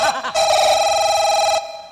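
A mobile phone ringing with a steady electronic ring tone, loud and close, sustained for most of the moment before cutting off, with a brief voice-like sound at the start.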